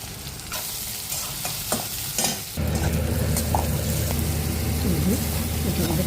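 Dry red chilies, onion and curry leaves fry in hot oil for a South Indian tempering, making a constant loud sizzle with stirring scrapes that swells and thickens halfway through.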